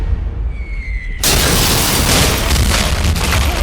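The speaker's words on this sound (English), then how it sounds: "a cannon is fired from a western tower of the city" Cannon fired from a western tower of a besieged medieval city, a sudden loud boom that cuts in after a quiet second and leaves a dense, sustained roar of rumble and debris.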